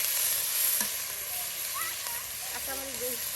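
Ground onion and garlic paste sizzling in hot oil with cumin for a village-style beef curry, a steady close hiss of frying with a voice talking over it.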